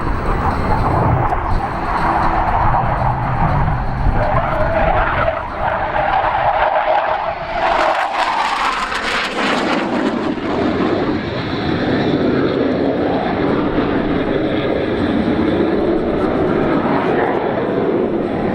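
An RAAF Hawk 127 jet performing an aerobatic display at Avalon Airshow roars loudly and steadily, with a swelling, shifting whoosh as it passes, and a commentator talking over it throughout.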